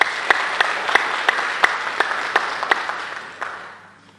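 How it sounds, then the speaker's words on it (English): An audience at a community college hall of fame induction claps warmly for the inductees, steady applause with a few sharp, louder individual claps standing out before it fades away. "So let's give our inductees another warm round of applause."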